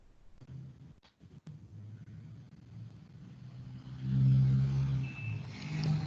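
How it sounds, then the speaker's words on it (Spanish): A car drives past: a low engine rumble swells to a peak midway, then eases off, with a couple of faint clicks earlier and no voices. "Eso, ya se escuchó el carro."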